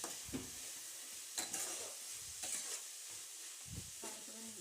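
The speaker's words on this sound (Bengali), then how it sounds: "পেঁয়াজটাকে ভালো করে ভেজে নেব।" Onions and ginger paste fry in a pan with a soft, steady sizzle, while a spoon stirs and scrapes the pan in occasional bursts, faint and close.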